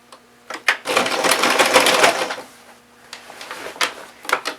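A sewing machine stitches quilted fabric for a pair of pants in a close, steady two-second burst, followed by quieter intermittent clicks and short mechanical bursts as the fabric is handled.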